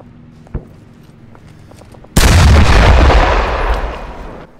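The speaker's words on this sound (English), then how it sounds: "I'm out with Carl Gustaf, the recoilless rifle" A Carl Gustaf M3 MAAWS recoilless rifle fires once in the video game Arma 3, a single loud, close boom that rolls into a long fading roar, after a quiet stretch with a faint thump.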